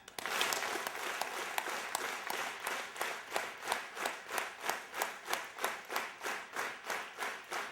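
An audience claps along in steady unison at a live country folk performance for a record label anniversary, loud even rhythmic handclaps repeating about twice per second, with no talk over them.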